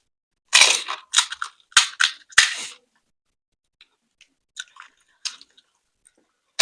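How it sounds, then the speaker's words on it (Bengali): Someone eats fuchka (panipuri) street food, with several sharp, close crunches of crisp shells in quick succession. Softer, sparse chewing and squishing noises follow in near silence. "ফুচকা খাওয়া স্টার্ট হয়ে গেছে।"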